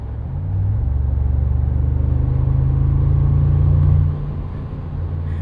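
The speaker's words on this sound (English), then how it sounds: "burbly, raspy, very low-pitched tone from this 4-liter V8." The 4-liter biturbo V8 of a 2025 Mercedes-AMG G63 burbles in a deep, raspy, low drone from inside the cabin, steady for several seconds before dropping off sharply near the end, with no voices.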